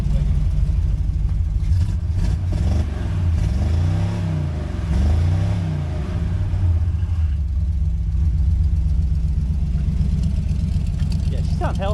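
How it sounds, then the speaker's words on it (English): An old car running on junkyard parts revs its engine through a healthy-sounding exhaust, a loud steady rumble that rises and falls with sweeping pitch bends, with people talking over it. "That's a good sounding exhaust right there."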